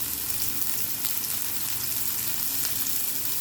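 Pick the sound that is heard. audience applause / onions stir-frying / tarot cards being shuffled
onions stir-frying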